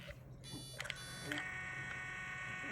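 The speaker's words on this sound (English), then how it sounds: "You hear that beeping" A Kangaroo Omni feeding pump sounds a sustained electronic beeping alert as a feed finishes, starting after a brief quiet moment and continuing steadily in the foreground over faint room background.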